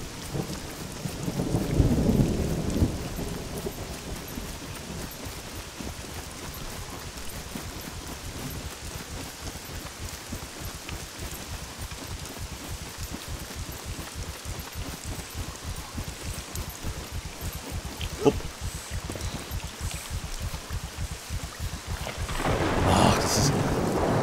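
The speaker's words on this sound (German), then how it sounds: "Der Regen, der beeinträchtigt einen so massiv in der Optik, im Bild und in allem." Steady heavy rain pours throughout in the SCUM game, with rumbles of thunder near the start and building again at the end, plus a sharp crack partway through; no speech.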